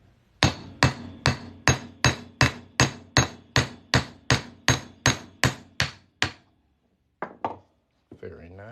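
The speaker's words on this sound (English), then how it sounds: "So we're going to hammer on through here." Sharp metallic hammer blows strike an 1886 Morgan silver dollar being shaped into a ring, about fifteen evenly spaced ringing hits close by, then a pause and a few final taps with brief talk.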